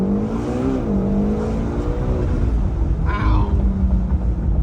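A 2025 McLaren GTS engine roars under launch control, a loud, close, sustained rumble rising in pitch as it accelerates, then briefly dipping at a gear change before pulling hard again.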